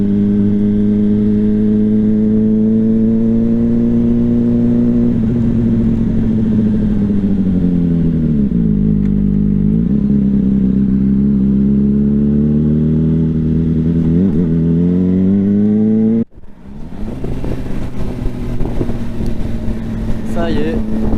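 A Suzuki GSR motorcycle engine runs steadily and loud at close range, its pitch rising and falling with revs, then cuts off abruptly and gives way to clattering road noise.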